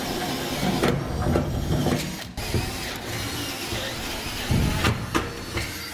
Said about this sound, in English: now we'll use the step bit to enlarge our holes to a 1/2 inch in diameter.